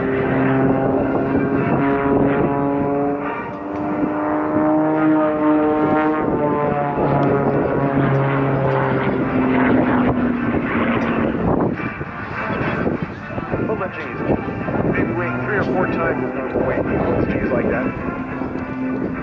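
Aerobatic airplane flying at a 2023 airshow, its engine a steady droning tone that rises and dips as it climbs, rolls and turns, heard under continuous announcer commentary and crowd noise.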